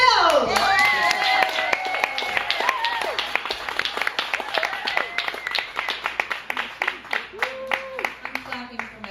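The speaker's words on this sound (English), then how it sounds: "I'm clapping for myself." Hands clapping at a stage talent show, an audience burst at first with voices over it, thinning into steady rhythmic claps toward the end, close and crisp.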